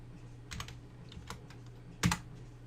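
Sparse keystrokes on a computer keyboard: a few soft clicks in a quiet room, then one sharper, louder press near the end, like hitting enter.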